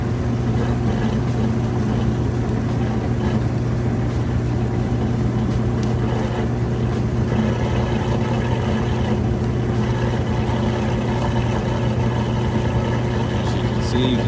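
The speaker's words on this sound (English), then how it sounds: "You can still hear the drain running, but it's got a nice fast spin, smooth and balanced." A Kenmore electric washer in a laundry center spins at full speed, a steady smooth drone with the drain water running underneath, continuous and close throughout.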